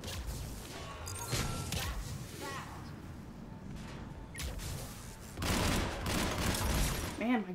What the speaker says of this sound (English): Man, my gun is loud.